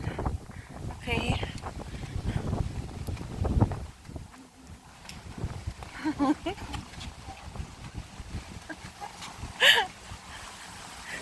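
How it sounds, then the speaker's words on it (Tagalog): Strong typhoon wind roars and buffets a nearby microphone in gusts, with crackling flutter and a brief louder burst near the end. A person talks over it. "tignan natin kasi lakas-lakas ng hangin"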